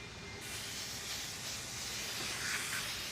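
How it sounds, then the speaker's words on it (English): An electric spray system applying a solvent-look sealer onto walnut wood in a shop gives a continuous close airy hiss with a steady mechanical hum underneath. "This is an electric spray system."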